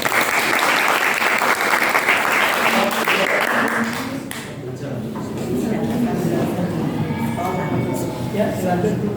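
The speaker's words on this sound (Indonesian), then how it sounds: "Tepuk tangan." Classroom applause from a group of students, a loud burst of dense clapping that thins out midway, then picks up again with scattered claps and voices mixed in.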